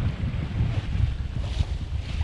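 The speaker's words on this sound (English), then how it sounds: "We got southeast winds, just about forecast, 12, 13 knots. Nice sailing, we're back on the road again." Sailboat under way in a 12 to 13 knot southeast wind, with a steady broadband rush of wind across the microphone and low water noise from the hull, loud and continuous throughout.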